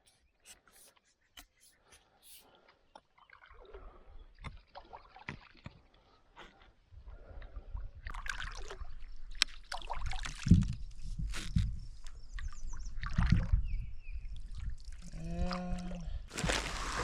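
Stand-up paddleboard paddle strokes on a lake during a bass fishing outing, giving soft intermittent splashes and water swishes that grow louder and steadier toward the end, close by with no talk.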